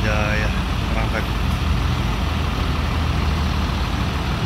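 Steady low rumble of an idling front-engine Aneka Jaya bus at a terminal as it prepares to depart, constant and fairly loud throughout, with faint voices briefly audible at the start.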